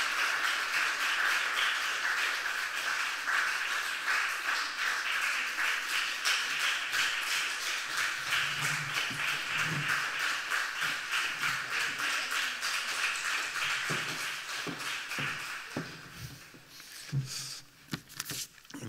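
An audience at a literary talk applauds to welcome two speakers, a dense, sustained patter of clapping that holds steady, then thins out into scattered claps near the end.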